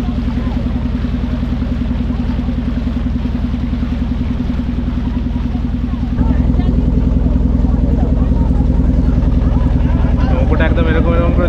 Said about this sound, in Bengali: এগুলো হচ্ছে লোকাল ফেরি, এর ওপরে সাইকেল, মোটরসাইকেল সব কিছুই আছে